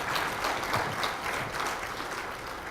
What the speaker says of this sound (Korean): 여러분 큰 박수로 청해주시면 대단히 좋겠습니다.